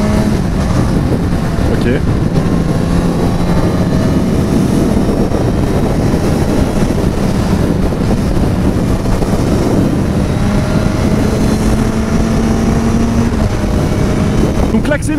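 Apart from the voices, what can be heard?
Suzuki GSX-S 950 motorcycle accelerating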